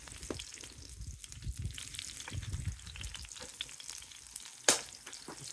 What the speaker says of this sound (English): I'm also going to go in with the corn, just to add a little bit of colour